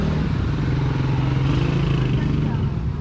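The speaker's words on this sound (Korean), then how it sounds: "시장 안이 상당히 복잡해서 오토바이로 다니기 좀 미안하네요" A motorcycle engine drones steadily at close range while riding through a crowded traditional market in Angeles, Philippines, its low putter constant throughout with a busy background hum.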